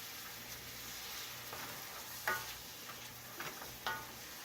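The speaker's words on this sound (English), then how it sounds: "I got my onions and my peppers all sauteed up" Onions and peppers sauté in a pan for a hibachi-style steak, rice and noodles meal: a faint, even sizzle with a few soft ticks and utensil taps, no voices.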